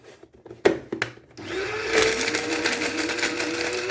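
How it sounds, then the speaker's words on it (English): An electric blender processing cassava fufu powder: a few sharp clicks and knocks, then the motor kicks on and holds a steady, high whining buzz. "I will simply blend it."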